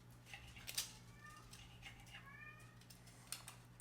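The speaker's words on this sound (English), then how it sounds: "Now my cat is whining." A house cat whines with a few thin, drawn-out meows at low volume, heard over a steady kitchen hum with faint clinks nearby.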